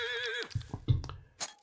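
A horse in the video game Wayfarer's Rising World whinnies at night with a wavering high call, followed by a few soft snorts and hoof thuds, close and otherwise quiet.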